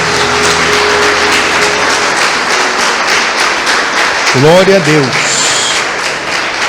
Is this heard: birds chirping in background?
no